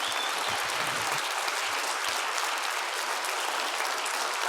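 A student audience applauds panelists at a health-and-wealth privilege discussion, a dense, even roar of many hands clapping at once that stays steady and fairly loud throughout.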